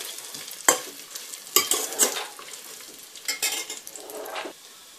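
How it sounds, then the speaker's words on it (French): Spice mixture browning in butter in a pan, a soft steady sizzle broken by a few sharp scraping stirs of a utensil against the pan, close and fairly quiet, with no talking. "dans le beurre. Et puis là, on va laisser bien dorer ce mélange"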